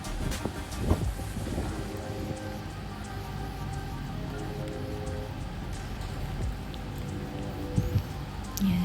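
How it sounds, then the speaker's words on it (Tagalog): Rain falls outdoors in Japan, a steady soft hiss with scattered drips and distant traffic-like rumble, continuous and moderately faint. "Umuulan ngayon"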